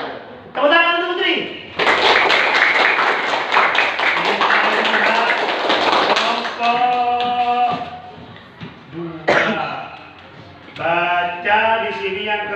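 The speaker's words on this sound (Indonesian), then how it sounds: "Tepuk tangan untuk Putri." A classroom of students claps for a classmate's correct answer: a dense burst of group applause lasting several seconds, framed by a teacher's voice before and after.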